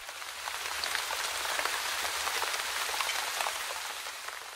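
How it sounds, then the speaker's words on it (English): Steady rain falls on a surface, a dense continuous hiss with scattered drop patter, even throughout and with no voices. "My Uncle Fred loves walking in the rain."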